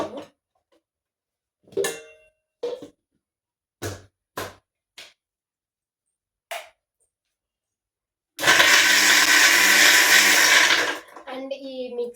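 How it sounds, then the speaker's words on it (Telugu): A mixer grinder blending cream with ice cubes for homemade ghee starts up loud and close after several sparse bumps and brief voices, whirring steadily for about three seconds before winding down. "ఈ మిక్సీ చేసేటప్పుడు కూడా మనము ఆగుతూ చేయాలన్నమాట"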